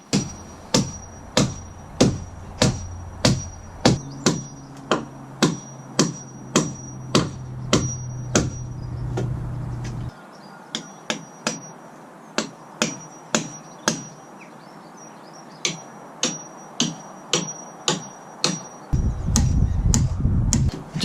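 Wood is split by hand for the wall frame of an off-grid wattle-and-daub workshop; sharp, evenly spaced striking blows repeat roughly every second, close and crisp, with a low hum under the first half.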